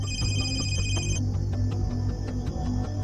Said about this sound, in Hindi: फोन बजने की आवाज।